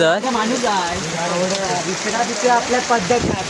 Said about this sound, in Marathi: आपण पावसात अडकलोय. पाऊस बघा